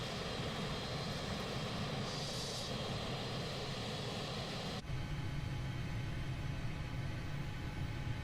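A Panavia Tornado jet in a flight simulator game gives off a steady, faint, broadband engine roar that continues unchanged, with a brief shift in tone partway through and no speech.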